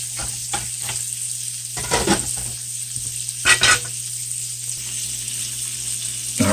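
Chilean sea bass sizzles in a frying pan with a steady hiss, while a few scraping stirs and louder spatters break in close by.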